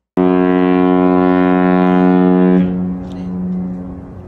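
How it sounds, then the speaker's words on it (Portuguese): A ship's horn gives one loud, sustained low-pitched blast that cuts off abruptly and leaves a fading echo and rumble. "Um exemplo de som grave seria a buzina de um navio"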